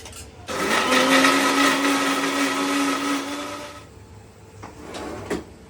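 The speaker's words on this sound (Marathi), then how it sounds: "आता मिक्सरला लावून घेऊया एकदम बारीक त्याची पेस्ट करून घेऊया" A mixer grinder whirs loudly as it grinds soaked chillies and coriander seeds into a fine paste, running steadily for about three seconds before cutting off and leaving a few faint clatters.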